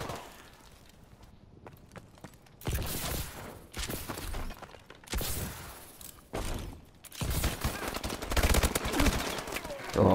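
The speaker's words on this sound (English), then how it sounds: "it's the burst fire weapon" A burst-fire weapon in Call of Duty: Advanced Warfare fires in several loud, rapid volleys separated by short pauses, the bursts crisp and close with clattering impacts.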